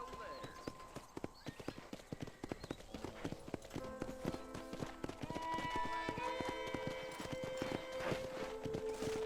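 Hooves clop in quick, irregular bursts as horses move around a ranch corral in Red Dead Redemption, close and fairly loud, with a faint whinny and a musical tone rising later.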